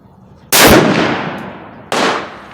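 Two sharp, loud rifle shots from a .308 Savage Axis crack about a second and a half apart at an outdoor range. Each blast decays into a short rolling echo.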